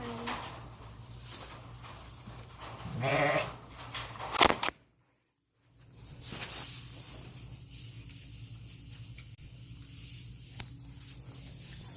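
Goat on a farm, with bleating-like calls near the start and a bright burst around four seconds, followed by a brief dropout and then steady low farmyard ambience with faint hiss.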